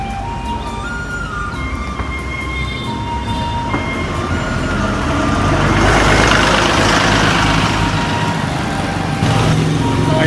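Busy street traffic in Hanoi, Vietnam rumbles steadily, with engines droning, occasional horn tones and a swell of passing vehicles midway, heard continuously at close range.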